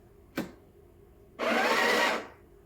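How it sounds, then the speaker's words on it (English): Breville Barista Express BES870 espresso machine grinding coffee beans, a short click followed by a single burst of steady high whirring grind lasting under a second. "So it will grind for as long as you hold if you want to top up your coffee."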